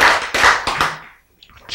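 A church congregation claps in a few loose, uneven bursts, close and fairly loud, then fades into near quiet before a faint murmur.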